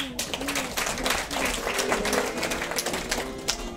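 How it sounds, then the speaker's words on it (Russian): An indoor audience at a teachers' contest at a children's creativity palace in Anadyr applauds steadily, a dense patter of many hands with faint tonal sounds underneath. "Предлагаю поддержать аплодисментами следующего участника нашей формулы успеха."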